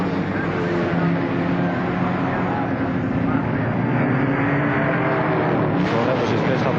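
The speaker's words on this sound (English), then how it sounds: "we'll see the power of these two as they really give them full throttle on the largest straightaway at this Warwick Farm circuit" Racing touring cars, including a Ford Falcon, roar at full throttle down the long Warwick Farm straight in 1973, a steady, dense engine drone throughout.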